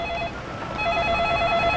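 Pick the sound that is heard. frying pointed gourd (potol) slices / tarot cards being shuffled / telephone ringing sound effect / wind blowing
telephone ringing sound effect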